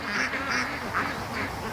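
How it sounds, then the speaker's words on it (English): A flock of about twenty ducks gathered at a backyard feeder, giving repeated nasal quacks in loose bursts, fairly close and steady against a faint outdoor background. "there's maybe 20 ducks at the feeder right now"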